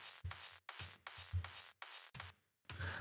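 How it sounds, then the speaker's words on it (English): A high-passed, distorted kick drum sample turned into a harsh noise texture, hitting in short, loud bursts with a roughly even rhythm and a brief gap near the end. "which is basically the high-passed distorted kick from, again, that same distorted kick sample pack"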